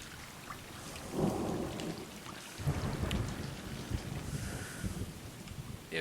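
Steady rain at night in the video game Stray hisses throughout with low rumbling thunder swelling and fading, a dense, even wash of sound with no voices.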